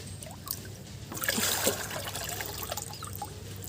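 Liquid plant fertilizer being mixed with water for garden plants makes a soft trickling, splashing sound nearby. The sloshing swells in the middle and then continues more gently.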